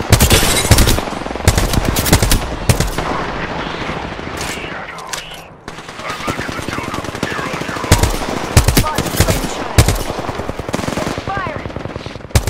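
Rapid bursts of R-301 carbine fire in the video game Apex Legends, loud automatic volleys in quick repeated strings with a brief lull midway, under occasional game voice callouts.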